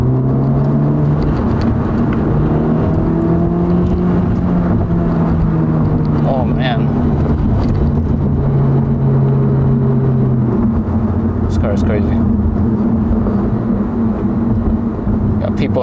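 Engine note from a 2023 Honda Civic Type R pushed harder on the road, a steady droning tone rising and holding under ongoing talk throughout.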